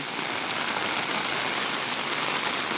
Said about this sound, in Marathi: भरपूर पाऊस जेरी आहे